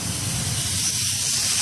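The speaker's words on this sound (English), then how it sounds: "Yeah, hear that sizzle. Hear that sizzle pop." Atlantic salmon sizzling in a cast iron skillet, a loud, continuous hissing spray of frying fat that holds steady without pause.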